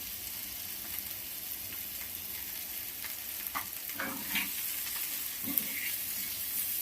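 Onions and banana frying in a pan with a steady sizzle, broken by a few spoon scrapes and stirring knocks, close and alone without talk.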